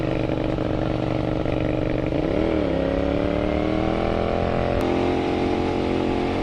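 A motorcycle rides on a wet road in Japan, its engine droning steadily and loud up close with a brief rise in revs, wind and road noise filling the background throughout.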